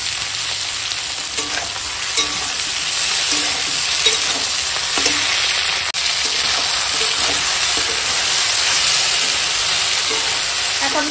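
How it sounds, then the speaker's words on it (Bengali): Vegetables for a radish and spinach ghonto frying in a pan with ginger-cumin paste, loud and close: a constant bright sizzle with periodic scraping stir strokes across the pan, and no speech. "এখন দিয়ে দেবো এই যে আদা জিরে বাটা, দিয়ে ভালো করে একটু মশলার সঙ্গে আনাজটা আবার ভেজে নিই"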